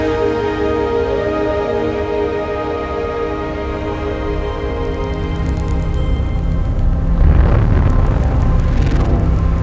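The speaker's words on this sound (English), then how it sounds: "They're literally the sounds of space ringing." Sonified gravitational waves from merging black holes: a dense, droning synthetic rumble layered with steady humming tones that swells and grows rougher toward the end, with no voices.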